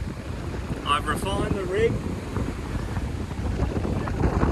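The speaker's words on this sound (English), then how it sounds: "It's bloody windy." Steady wind buffets the microphone with a constant low roar while someone talks over it during shark fishing.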